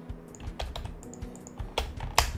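Quick keystrokes on a computer keyboard while entering Emmet shorthand for HTML, a scatter of light clicks with a few louder taps toward the end, heard alone with no talking.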